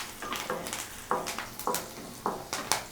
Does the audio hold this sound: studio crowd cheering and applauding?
no